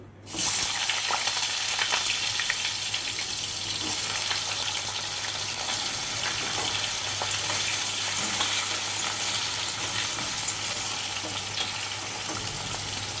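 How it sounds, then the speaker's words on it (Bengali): Potatoes fry in oil with turmeric and salt, sizzling steadily and loudly from start to finish. A faint scrape of stirring and a low steady hum run underneath. "সামান্য একটু হলুদ আর একটু লবণ দিয়ে আলুগুলো ভেজে নিচ্ছি।"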